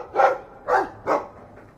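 A dog in the video game Dragon Age 2 barks three times in an even rhythm, close and clear, with a faint fourth yip at the end.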